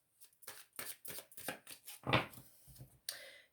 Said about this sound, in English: Let's just shuffle those cards.